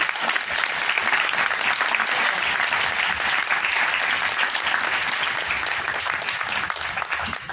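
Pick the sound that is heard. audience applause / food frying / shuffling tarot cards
audience applause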